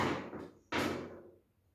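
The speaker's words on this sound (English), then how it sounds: "I will tap on the board." Two sharp taps on a board, a softer knock followed by a louder, crisp hit that decays quickly, close and alone with no talking.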